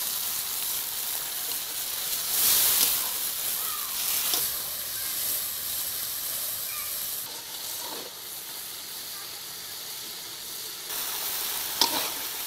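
Spice paste for katla fish curry sizzling in oil, a continuous hissing fry with occasional louder spits and faint stirring scrapes, close and steady with no voices.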